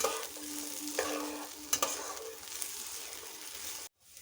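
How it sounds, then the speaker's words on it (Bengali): Food fries in a pan ahead of an egg dish, a gentle steady sizzle with a few spatula knocks and a brief tonal squeak, ending abruptly in silence, with no speech. "ওগুলো ভেজে নিতে হবে ভালো করে"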